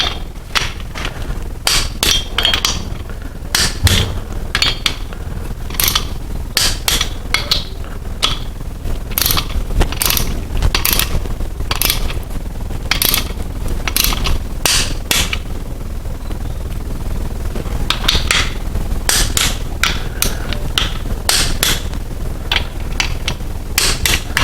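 Repeated sharp metallic clicks from a torque wrench ratcheting on bolts during a Land Rover 90 restoration with a 350 Chevy engine, coming in steady bursts of strokes close to the microphone with brief pauses between them.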